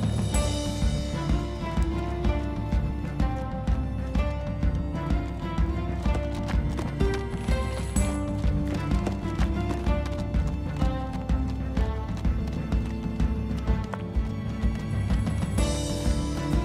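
Horses in the Minecraft video game plod along with steady clip-clop hoofbeats, an even, continuous rhythm over dense background game music throughout, with no talking.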